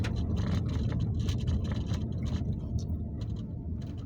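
A motorcycle climbs a wet, slippery dirt slope on a rural mountain trail, its engine droning low and steady up close with scraping and rattling over the rough ground.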